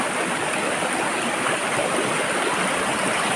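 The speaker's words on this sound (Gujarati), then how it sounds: "અહીં ફ્રેન્ડ એવો ઝરણાનો સરસ મજાનો અવાજ અને પક્ષીઓનો કલરવ" A forest stream near the Sarkhadiya Hanuman shrine in a dense jungle, flowing over rocks in the monsoon season, gives a steady, close, full rush of water that stays constant throughout with no voices.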